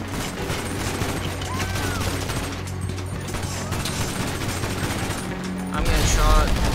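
Video game gunfire in bursts of rapid automatic shots over a dense, noisy background, with a louder crash of sound near the end; steady and close throughout, no clear voices.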